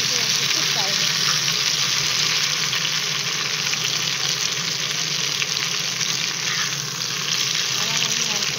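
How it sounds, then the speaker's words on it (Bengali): Potatoes fry in a pan for a katla fish and potato curry, a loud, dense sizzle close by that runs unbroken the whole time, with no talking. "এখন আমার আলুটা কিন্তু একটু ফ্রাই হচ্ছে"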